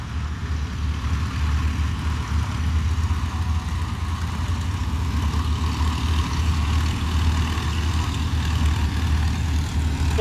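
A big yellow Boeing Stearman Model 75 biplane, a Navy trainer painted with red stripes and stars, takes off as a bomber at an air show, its radial engine and propeller giving a steady, loud, continuous drone with no voices over it.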